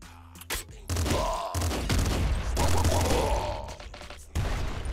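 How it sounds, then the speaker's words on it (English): Rapid, loud bursts of golden machine gun fire from the video game Nuclear Throne, sustained volleys lasting several seconds with short gaps and a brief lull before firing resumes. "Golden Machine Gun."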